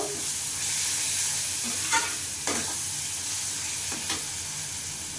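Spice paste with salt sautéing in a frying pan, a dense continuous hiss of frying oil with a few soft spatula scrapes stirring through it, close and steady, no speech.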